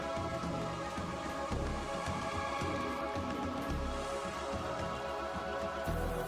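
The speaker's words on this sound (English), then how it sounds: "No, it's terrible weather, it's still raining." Rain falling in RimWorld, a continuous, even patter of raindrops on surfaces, fairly quiet and unbroken for the whole stretch, with no talk.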